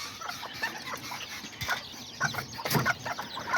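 Serama chicks and their mother hens cluck and cheep softly nearby, a busy run of small chirps and short clucks over a steady outdoor background, with a louder burst of calls toward the end.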